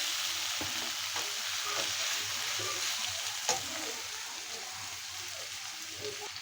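Beef tripe sizzles and fries steadily in a pan with fried potatoes, a dense continuous crackle with occasional stirring clinks and one sharper tap, no voices.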